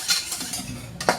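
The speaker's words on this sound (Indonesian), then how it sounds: "Ini diaduk-aduk lagi." Spoon stirring agar-agar, salt and water in a pot, a few quick metallic scrapes and clinks against the pot over about a second, close and fairly quiet.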